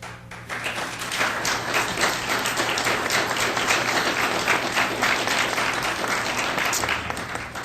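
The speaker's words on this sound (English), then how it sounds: "thanks for that applause for those who were" Applause at a city council meeting on a sports and events facility plan, a crowd clapping steadily and fairly loudly for several seconds after a brief quiet start, with no speech over it.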